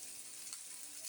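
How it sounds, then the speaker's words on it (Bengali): Jalapeño-style olive pickle poured into a hot pan over chili flakes, giving a steady close hiss and sizzle of frying that holds evenly for about a second. "এই যে সেই আচারটা ঢেলে দিলাম"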